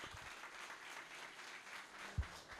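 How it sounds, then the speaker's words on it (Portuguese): Audience applause at a lecture on tax reform, a steady wash of many hands clapping at moderate level, with one louder thump near the end. "uma salva de palmas pela nação aqui"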